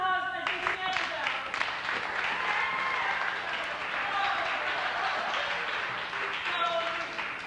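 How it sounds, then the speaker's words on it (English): Studio audience applause at a televised fashion show, a steady dense wash of clapping that holds loud and even for the whole stretch, with voices mixed in underneath. "A big round of applause for Jason Amsterdam."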